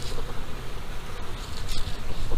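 Honeybees swarm busily around their hives in an outdoor bee yard, a close, continuous buzzing drone with individual bees flying past.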